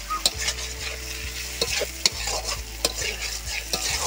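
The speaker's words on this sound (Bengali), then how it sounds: "লবণ স্বাদ মতো দিতে হবে, হলুদ গুঁড়ো দিলাম এক চা চামচ দিলেই হবে। এগুলো ভালো করে নাড়িয়ে নিলাম।" Potatoes already fried are stirred in a pan with salt and turmeric, a spoon scraping in repeated rhythmic strokes over a low steady sizzle, close and clear with no voices.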